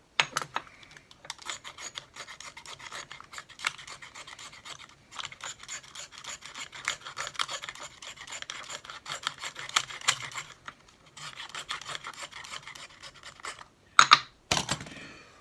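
A Scotch-Brite pad scrubs a Honda CB 750 brake caliper in quick, rasping strokes, bursts of gritty scratching separated by short pauses, close and fairly quiet, with a couple of sharp knocks near the end.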